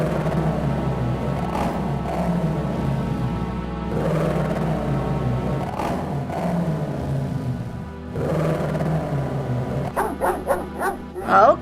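A dog in the King's Quest 7 adventure game barks and yips repeatedly, loud and close, with whimpering mixed in and a rapid burst of higher yelps toward the end.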